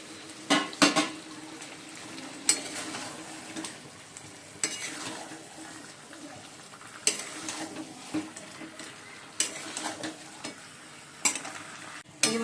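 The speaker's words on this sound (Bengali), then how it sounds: "এবার চিকেনটা দিয়ে দেবো, ভাজা চিকেনটা ঢেলেই দিচ্ছি।" Fried chicken pieces are poured into a hot pan and sizzle quietly, with repeated clinks and scrapes of a spoon stirring against the metal, all close by with no talking.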